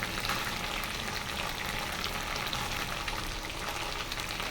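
Cauliflower fries in a pan with a dense, even crackling sizzle that stays steady and close throughout, with no voices.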